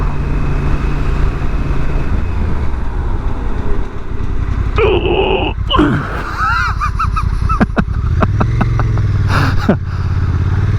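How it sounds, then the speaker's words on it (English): A 2022 Honda NT1100 motorcycle brakes hard with ABS cutting in: engine and wind roar give way to a falling, pulsing whine and chatter, then the engine picks up again, loud and close with no talk. "Bit of ABS intervention there, but pulled up really briskly"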